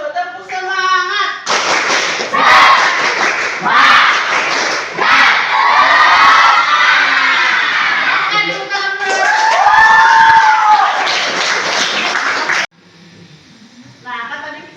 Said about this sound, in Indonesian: Coba kita tepuk semangat dulu